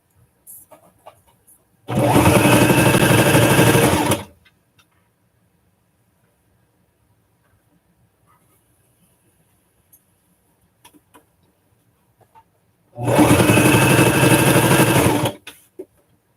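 A sewing machine runs in two loud bursts of rapid stitching, each a couple of seconds long, separated by a long quiet pause with faint handling noises.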